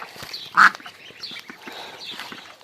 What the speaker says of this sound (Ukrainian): Не бійсь, не бійсь, качечка.